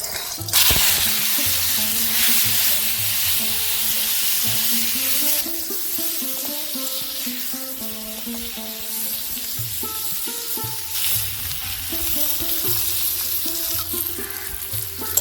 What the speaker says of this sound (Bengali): এবার আমি শিমটাকে আগে ভেজে নেব কড়াই গরম হয়ে গেছে